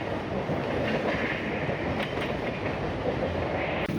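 A local suburban train runs between Virar and Andheri in Mumbai during the morning rush hour, giving a steady, loud rumble with a continuous wheel clatter from start to end and no talk.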